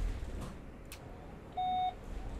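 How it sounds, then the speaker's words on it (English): A bus in the Bus Simulator 18 driving game gives one short, clear electronic beep over a steady background of engine and road noise. "I don't like it beeping at me."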